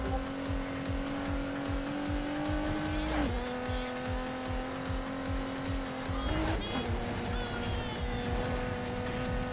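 An upgraded Ford Mustang in Need for Speed Heat roars at high revs, with tire squeal and two sharp gear shifts as the pitch drops and climbs again.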